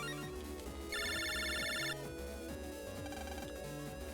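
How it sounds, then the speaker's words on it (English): Incoming phone call ringtone from Mega Man Battle Network 3, a bright electronic beeping ring over the game's steady chiptune music, sounding once for about a second. "You got a phone call."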